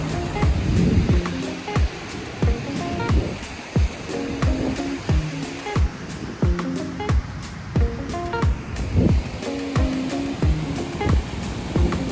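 Ocean surf washing onto a beach, a steady rushing roar with wind buffeting the microphone, punctuated by repeated sharp low thumps or bumps throughout.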